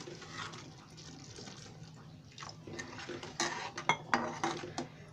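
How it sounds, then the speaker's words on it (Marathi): Water poured into egg curry masala simmering in a pan, a soft, steady pour near at hand, broken by sharp clinks and scrapes of utensil against metal that grow louder toward the end. "आता त्याच्यामध्ये मी थोडं पाणी ओतते"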